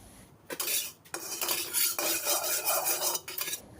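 Pounded chili paste for a canned-fish nam prik is stir-fried in a pan with a little oil, a utensil scraping and clattering against the pan in several close, busy bursts separated by short pauses.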